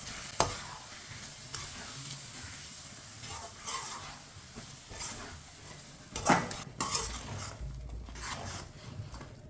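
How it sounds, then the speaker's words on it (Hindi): A spoon stirs sugar into carrot halwa in a pan, with scraping strokes and soft sizzling throughout, louder clattering bursts midway, and no talk. "चीनी को मैंने मिक्स कर लिया।"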